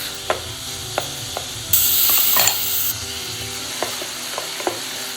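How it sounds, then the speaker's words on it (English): Garlic and sliced beef stir-fry in hot oil for a Korean dried seaweed soup. A close sizzle runs under scattered spatula taps, and a loud hissing burst swells for about a second as the ingredients hit the pan, with no speech. "Put the garlic in and stir it well until it turns gold. Then add the sliced beef."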